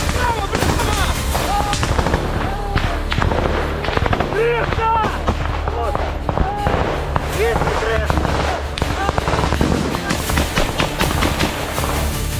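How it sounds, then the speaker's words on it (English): During a trench assault in the Ukraine–Russia war, rapid gunfire and concussive explosive blasts crackle continuously and loudly, with voices sounding over the din throughout. "The relentless barrage from Alpha Group and the concussive blasts echoing through the subterranean tunnels finally shatter the morale of the remaining Russian forces"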